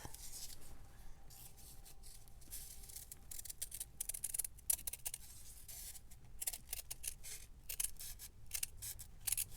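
Scissors cut paper for a book spine in an ephemera folio, with quiet, close snips and rustles coming in irregular bursts, some quick runs of cuts between pauses.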